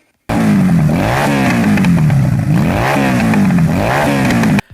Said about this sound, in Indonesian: seperti apa sih suara mesin dari motor milik orang terkuat dan tidak pernah dikalahkan di Tokyo Revengers ini?